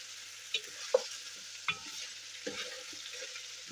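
Lamb browning in a pot for soup, a quiet low sizzle with a few soft stirring clinks and scrapes scattered through, close and faint.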